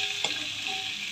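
Tempering spices sizzle briskly in about three tablespoons of hot oil in a pan, a continuous close frying hiss with one small stirring clatter, no talking.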